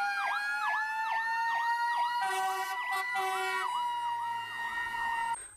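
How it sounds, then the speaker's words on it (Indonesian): A toy fire truck gives off a looping electronic wail siren, a repeating up-and-down tone. It plays steadily and close, changes pattern partway through, then cuts off. "Wow, lihat teman-teman, ini mobil pemadam kebakaran."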